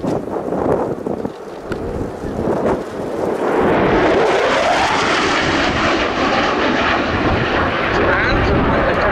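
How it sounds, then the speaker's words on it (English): A Eurofighter Typhoon FGR4 fighter jet roars during an air display at RIAT 2019, its engine noise swelling from a distant rumble into a loud, sustained close pass, with wind buffeting the microphone and a commentator's voice underneath. "And Lieutenant Jim Peterson, in his second year as the Typhoon display pilot, he is out."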